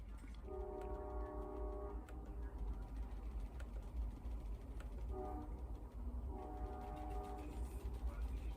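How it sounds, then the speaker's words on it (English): A train passes at a distance with a steady rumble, while its horn sounds in repeated sustained blasts, faint but clear in the background. "I hear a choo-choo train going by."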